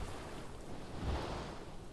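Ocean waves wash steadily out on open water in the video game Path of Titans, a faint, continuous surf hiss mixed with soft wind rumble, even throughout with no voices.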